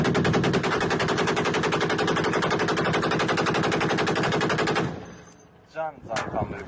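Rapid sustained machine-gun fire rattles continuously and loudly for about five seconds, then stops, followed by a few scattered shots and a brief voice, in a combat setting.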